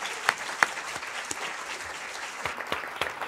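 Audience applause welcoming a panel onto the stage at an evening talk on media relations, steady moderate clapping from a full crowd with a few sharper nearby claps.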